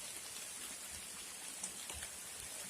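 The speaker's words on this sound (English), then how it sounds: "the rain come down" Steady, faint rain falls outdoors on an overgrown abandoned road near a river in Johnstown, St Thomas, as an even hiss with scattered drop taps and no voices.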